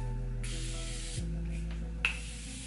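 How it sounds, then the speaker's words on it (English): Morphe Prep and Set setting spray hisses out of a pump bottle in a few short bursts over a quiet room hum, ending with one sharp final spritz. "I'm going to go ahead and spray some setting spray real quick"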